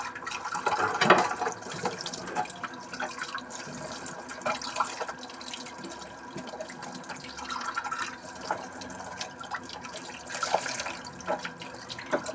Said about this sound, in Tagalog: naghuhugas na lang tayo ng plato